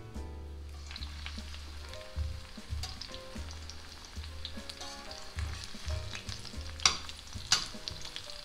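Shallots frying in a pan give a soft, steady sizzle with faint crackles and a couple of brighter pops near the end, with no one speaking.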